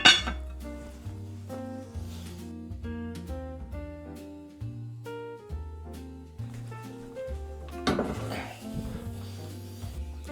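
A metal lid clinks down onto a cooking pot of simmering beef bulalo, giving a sharp clatter at the start and another later, heard over steady background piano music.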